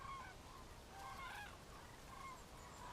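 Cranes calling at a distance on a Mediterranean peninsula wintering ground, several faint, trumpeting bugles rising at intervals over steady background noise, with no one talking.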